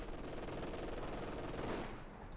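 Bren gun fire in a Company of Heroes 2 battle, a dense continuous burst of automatic gunfire that stays loud and steady before fading slightly at the end.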